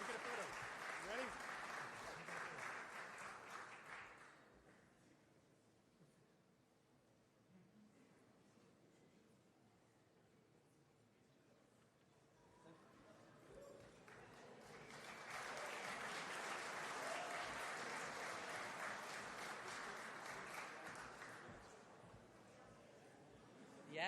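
An awards-show crowd bursts into sustained applause for Sandfall Interactive winning a trophy at the Golden Joystick Awards, a dense wash of clapping that fades, lulls under talk, then swells again to full strength.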